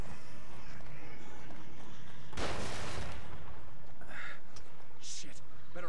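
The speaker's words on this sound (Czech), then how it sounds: "On po mně střílí" Gunfire in the horror video game The Evil Within, a loud burst of shots erupting midway over steady game ambience, followed by brief sharper cracks and impacts.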